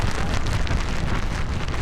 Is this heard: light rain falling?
yes